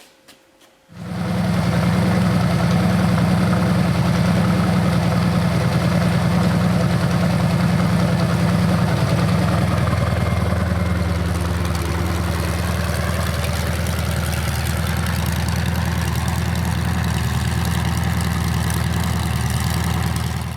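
A 1980 Chevy Silverado truck engine idles on a run stand, steady and loud, a deep continuous rumble with a slight shift in tone partway through, no voices.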